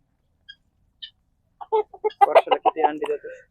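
An Egyptian native breed chicken gives a couple of faint isolated calls, then a quick run of clucks, loud and close, fading at the end.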